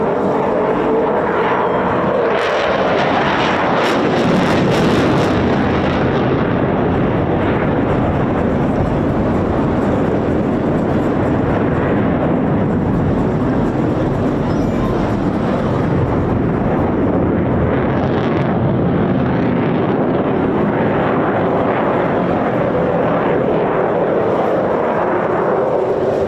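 An RAF Typhoon FGR4 jet in the black Blackjack ZJ914 display livery performs an aileron roll during a flying display, producing a loud, continuous broadband engine roar that swells early and then holds steady, with no talk.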